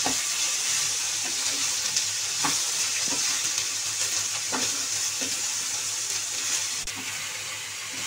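Aloo gobi sabzi of potato and cauliflower sizzles as it fries in a pan, a dense, continuous crackle with a few sharper pops and scraping stirs, loud and close.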